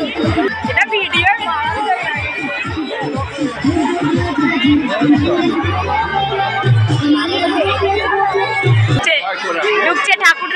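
A wedding buffet line packed with people gives off continuous loud babble, overlapping voices near and far with a few clearer nearby talkers and shuffling underneath.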